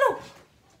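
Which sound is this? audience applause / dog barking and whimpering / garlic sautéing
dog barking and whimpering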